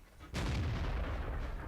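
A tank gun fires in the World of Tanks video game during a Type 59 battle, a single heavy, booming shot that hits abruptly and rumbles on loud and close, with no talk over it.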